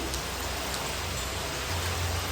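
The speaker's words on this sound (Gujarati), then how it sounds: "વરસાદે ચાલુ છે" Steady rain pours down, a dense even hiss with a low rumble underneath, continuous throughout with no voices.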